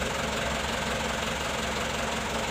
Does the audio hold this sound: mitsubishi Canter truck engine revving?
yes